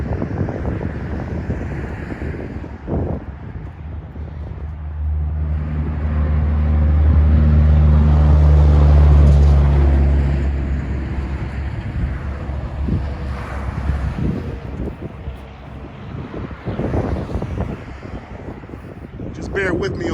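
Road traffic passes a used car lot, with a vehicle swelling loudly and then receding under heavy wind buffeting on the microphone, amid other cars and intermittent talk.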